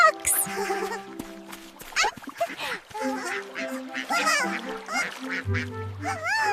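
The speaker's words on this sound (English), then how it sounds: "Cute ducks." Ducks quacking and honking in a lively, overlapping chorus, close and busy throughout, mixed with music and other farm-bird calls.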